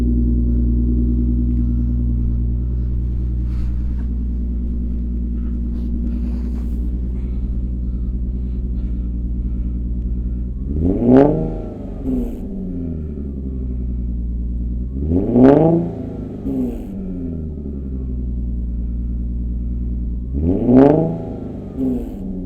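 A car fitted with a Motordyne exhaust idles with a deep, steady burble, then three sharp throttle blips rise and fall in turn, recorded a few feet behind the tailpipe, loud with no talking.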